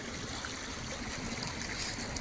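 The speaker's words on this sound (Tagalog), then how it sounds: "nakita po natin yung tubig na umaagos sa ilog" Steady broadband rush of river water carrying irrigation runoff from rice fields, a strong current flowing continuously and fairly close, with no voices over it.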